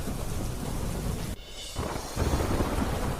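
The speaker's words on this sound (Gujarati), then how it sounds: "બનાસકાંઠાના ઉપરવાસમાં ભારે વરસાદ." Heavy monsoon rain pours down over upstream Banaskantha in Gujarat, a dense steady hiss with low rumbling beneath, briefly cut and then resuming louder.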